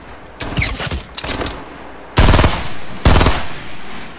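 Rapid bursts of gunfire in a battle royale style video game, a stuttering volley of shots followed by two louder, heavier blasts, close and punchy with no talk over them.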